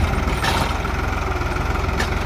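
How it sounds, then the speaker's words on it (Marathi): A tractor engine runs steadily with a low, continuous rumble while clearing stones from large rocky fallow farmland, loud and close throughout with no voices. "मोठं पडीक जमीन असल्यामुळे ट्रॅक्टरला थोडा त्रास होतो दगड काढण्यासाठी"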